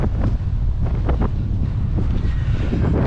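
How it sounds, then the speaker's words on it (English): Strong wind roars across the microphone while cycling outdoors, a loud continuous low rumbling buffet with gusty surges and no talking. "Wind is definitely picking up."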